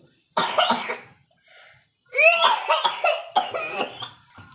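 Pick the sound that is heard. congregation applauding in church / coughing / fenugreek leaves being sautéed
coughing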